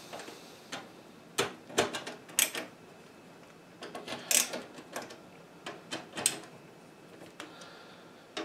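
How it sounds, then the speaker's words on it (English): Thumb screws being unscrewed and removed from the back of a Corsair Obsidian 250D computer case, a series of faint, scattered metallic ticks and clicks, close and alone with no talking. "I take out thumb screws"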